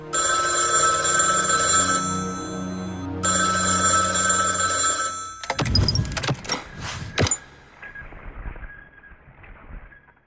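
A telephone rings loudly in repeated electronic bursts with a brief gap between them, followed by rustling, clattering handling noises and then a quieter tone.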